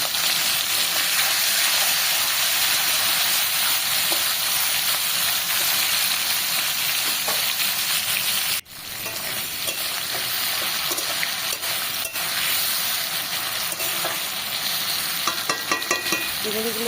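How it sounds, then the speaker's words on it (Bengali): Prawns sizzle and fry in hot oil in a pan, a dense, steady crackling hiss that briefly drops and then resumes with scattered pops and spatters. "তো তেলটা গরম হয়ে গেছে, এবার আমি চিংড়িগুলো দিয়ে দিচ্ছি।"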